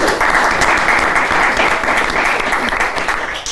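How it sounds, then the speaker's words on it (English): Studio audience applause on a comedy panel show, dense and steady throughout at close range, tapering slightly at the end. "Give her a round of applause, Silvana Lovin."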